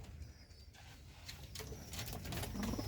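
Capuchine pigeons coo softly in a Jamaican breeding loft, low murmuring calls under steady background noise and a few faint higher chirps, with no talking.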